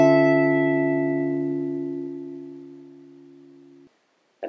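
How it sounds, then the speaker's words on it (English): A single sustained minor major 9 chord struck once and left to ring, decaying slowly for nearly four seconds before being cut off, followed by a faint brief noise. "A very good melodic minor sounding chord is the minor major 9, which sounds like this."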